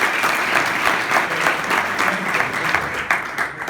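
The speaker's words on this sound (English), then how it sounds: "let's have one more big round of applause for" Loud, close applause from a conference audience at a talk on leadership and workplace culture, steady clapping with a few rhythmic swells and no talk over it.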